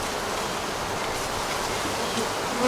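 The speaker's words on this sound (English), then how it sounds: "get most of these bees off before I bring them into the building" Honey bees swarm around a hive frame as it is lifted out during queen cell grafting, a dense, continuous buzz, close and even, with no talking.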